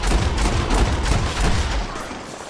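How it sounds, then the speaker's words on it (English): Gunfire from the video game Red Dead Redemption 2, a dense, loud volley of shots blending into a continuous roar that holds steady for about two seconds before easing slightly. "until Dutch decides to shoot Micah"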